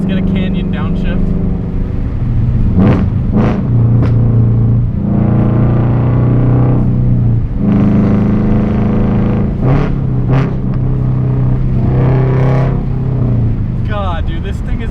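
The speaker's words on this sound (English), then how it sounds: "let's get a canyon downshift." A Subaru BRZ with a JDL UEL header, front pipe and Tomei 80R exhaust roars loudly from inside the cabin on a canyon road, revving hard through downshifts with rising and falling engine pitch, while people talk over the noise.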